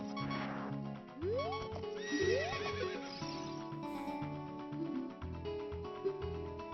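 A horse in The Legend of Zelda: Ocarina of Time whinnies loudly over game music, followed by steady clip-clop hoofbeats of galloping with rising pitched effects layered above.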